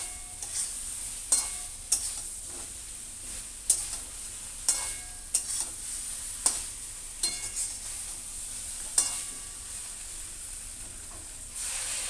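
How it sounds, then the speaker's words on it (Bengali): Fried pointed gourd is stirred into spice paste in a pan, soft sizzling under repeated scraping stirs of a spoon against the pan, spaced clatters recurring every second or so, close by. "ভাজা পটল দিয়ে সুন্দর করে কষিয়ে নিয়ে অল্প জল দিয়ে"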